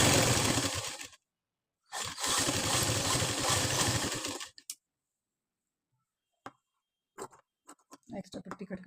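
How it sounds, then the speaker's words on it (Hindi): A sewing machine stitches a seam on a simple blouse, running in two close, loud bursts of steady mechanical whirring separated by a short pause, followed by a few quieter handling knocks and clicks. "सिलाई लगा देंगे इस पे।"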